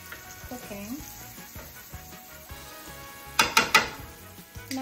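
Onions cooking in a pan for a steak sandwich, giving a soft sizzle with light clinks of utensils and a short burst of sharper metallic clatters near the end.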